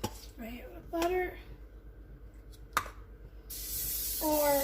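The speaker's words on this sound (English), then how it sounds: "Spray it with butter" Butter cooking spray hisses briefly onto a bread pan for homestyle white bread in a home kitchen, a close, steady spray burst near the end following a sharp clink and intermittent speech.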